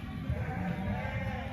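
Cross ewes on a sheep farm bleating: a short, low, wavering call from the flock, moderately close but fairly faint against a busy background.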